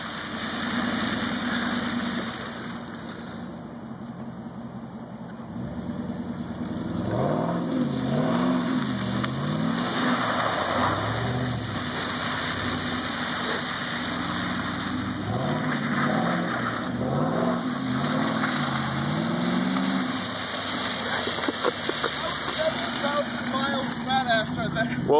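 A car drifting with its engine revving in repeated rising and falling sweeps, tires being worn down, loud and sustained with a steady mechanical drone, with people talking over it.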